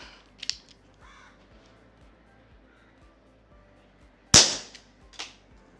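Dan Wesson air gun revolver firing at a small bottle: one loud sharp crack near the middle, followed by a weaker snap a second later and a faint click early on, over a quiet background with no voices.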